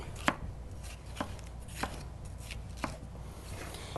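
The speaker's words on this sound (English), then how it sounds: "We're going to cut it in half, and we're just going to put that in the pot." A kitchen knife cuts an ingredient in half on a cutting board, about five sharp, distinct chops spaced roughly half a second apart, close and alone over quiet room tone.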